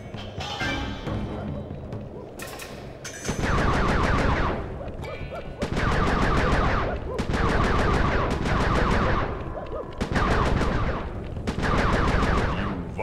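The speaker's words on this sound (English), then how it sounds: "Be careful with those fireworks, Anakin." Fireworks fire in rapid crackling bursts in the Sly 3 video game, loud repeated volleys of sharp popping shots, about five dense bursts separated by short pauses over game background sound.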